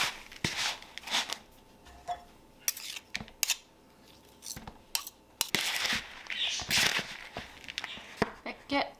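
Crumble topping for a pear crisp being mixed by hand in a bowl gives irregular gritty scrapes, rustles and clinks that come and go, with people talking throughout.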